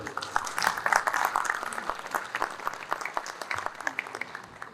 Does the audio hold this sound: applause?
yes